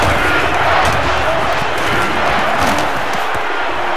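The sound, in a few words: stadium crowd cheering in video game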